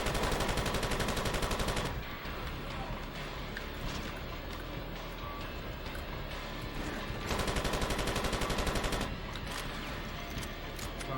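Rapid machine-gun fire from the video game Far Cry Instincts rattles in dense, continuous bursts, with two long sustained volleys separated by a stretch of quieter, scattered shooting and ambient game noise.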